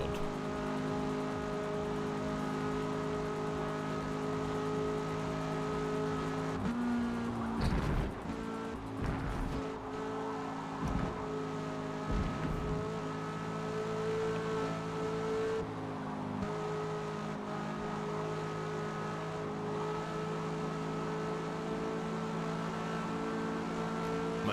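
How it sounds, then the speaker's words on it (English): Slow, dull race cars in a racing video game give a continuous, fairly quiet engine drone with shifting pitch. A cluster of rougher bursts and rumbles comes partway through. "These cars are unbelievably dull and slow, Spod."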